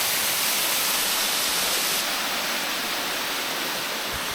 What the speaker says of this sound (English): This is Fuller Falls.